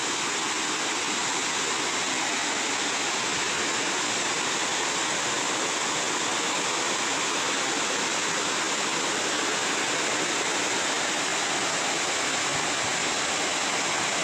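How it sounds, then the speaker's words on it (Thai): Mae Aep waterfall in Mae Chaem, Chiang Mai, roars as a constant, loud, even rush of falling water with no pauses and no voices. "นี่คือน้ำตกแม่แอบนะครับ"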